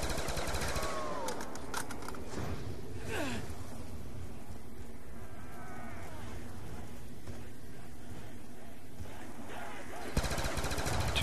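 Upgraded Galil rifle fire in Black Ops 2 Zombies, Grief mode on the Town map, with rapid bursts of shots running throughout amid game noise and a voice talking over it.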